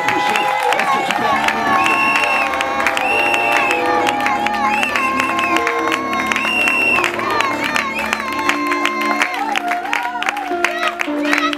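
A church congregation at a prophetic seminar cheers and acclaims in praise of God while a man of God approaches, with loud sustained crowd voices, shouts and high cries over continuous music, and some clapping mixed in.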